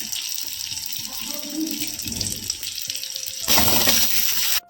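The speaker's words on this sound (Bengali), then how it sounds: "এবারে মশলাটাকে ভালো করে কষিয়ে নেব" Spices with ginger and garlic paste, chilli paste, turmeric and cumin powder frying in a pan, a continuous close sizzle and hiss that grows louder and brighter near the end.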